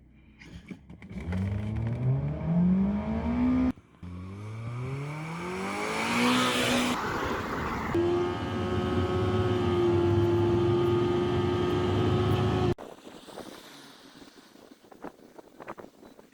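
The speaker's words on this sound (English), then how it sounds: "Let's go launch this car." A car launches from rest and accelerates hard on a bumpy, potholed road, its engine climbing steeply through repeated gear changes, loud and close with wind noise, then dropping back to a quieter cruise near the end.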